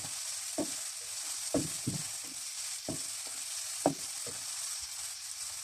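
Onions fry in a pan with a steady soft sizzle, broken by several sharp stirring scrapes and taps at irregular intervals.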